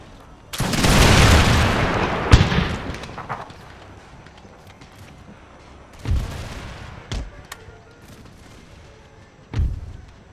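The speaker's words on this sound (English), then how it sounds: "Give him a volley." Musket volleys from an Empire: Total War battle crack out as several booming bursts. A long, heavy barrage comes first, then scattered shots and smaller volleys follow, with faint battlefield din between them.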